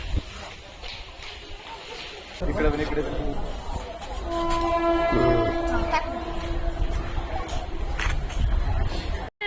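A DEMU special train approaches the platform with a rising rumble and a sustained horn-like tone, while people talk nearby on the platform.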